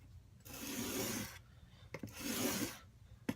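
A steel plane iron is drawn across a sharpening surface in two long, rasping strokes, each rough scraping pass lasting about a second with small clicks between them, close and fairly quiet.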